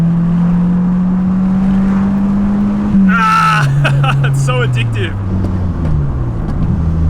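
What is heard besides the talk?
Mitsubishi Lancer engine accelerating hard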